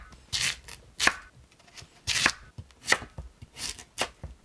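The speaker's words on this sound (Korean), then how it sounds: "무 3개를 깍둑 썰어 주세요." Kitchen knife dicing white radish into cubes on a cutting board for kkakdugi kimchi: sharp, irregular chopping knocks in quick bursts, close and crisp, with no speech.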